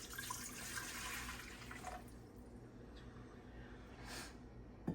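Two and a half cups of lukewarm water pour into a mixing bowl, a soft continuous splashing and trickling that eases off partway through, fairly quiet and close.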